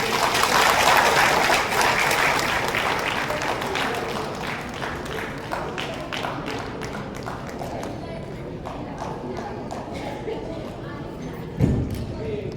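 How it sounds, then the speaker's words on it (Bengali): An audience claps at a World Disability Day event, with a dense burst of applause at the start that thins and fades, while a voice talks over the hall. "একটু হাততালি দেবে"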